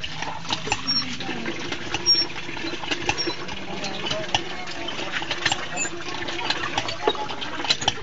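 Water gushes and splashes from a hand pump where people gather to fetch it, a steady busy churn with a clanking, mechanical edge and faint voices in the background.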